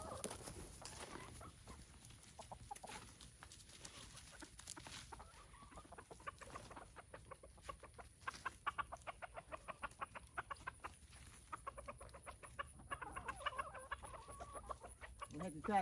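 Backyard chickens cluck and chatter in a garden while being fed moringa greens, a faint, continuous flock murmur with sharper repeated clucks toward the end and a voice briefly under it.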